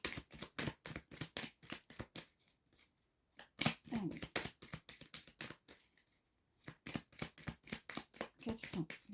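Tarot cards shuffled by hand in repeated quick bursts of riffling and flicking, close and fairly quiet, with short pauses between rounds and no talking.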